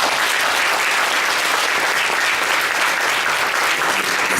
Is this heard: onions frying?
no